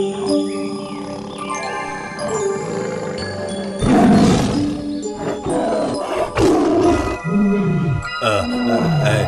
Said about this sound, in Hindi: बाघ आ रहा है